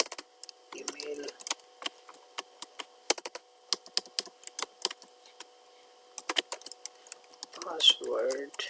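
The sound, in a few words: typing a password on a computer keyboard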